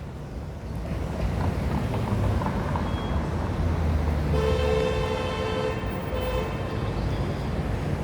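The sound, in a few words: passing cars and honking car horns in traffic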